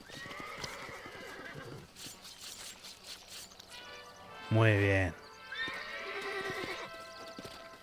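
Horses from Red Dead Redemption whinny loudly in one strong neigh near the middle, with clip-clopping hooves around it and someone talking over the start and end.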